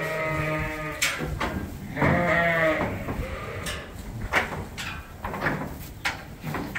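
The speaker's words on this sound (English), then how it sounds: "Right now we're offloading the cull ewes." Cull ewes on a sheep farm bleat repeatedly while being offloaded, several overlapping wavering calls close by amid thumps and shuffling of hooves and movement.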